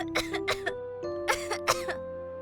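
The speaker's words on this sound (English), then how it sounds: "She started coughing right away, even as she sat up clenching the blankets close to herself." A woman coughs in several harsh bursts, two pairs separated by a short pause, heard close and clear over a steady tonal musical background.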